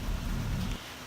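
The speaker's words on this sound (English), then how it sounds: "you can hear it's raining right now, so we've got thunderstorms going on right now." Steady rain falling during a thunderstorm, a dense close hiss with deep low rumble that drops off near the end, alone without talk.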